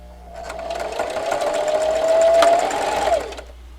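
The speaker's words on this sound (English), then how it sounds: "so I'm over here at the sewing machine" A sewing machine running a straight stitch at 2.5 length on a kitchen towel scarf: a continuous close whirring hum that builds, holds steady for a few seconds, then stops.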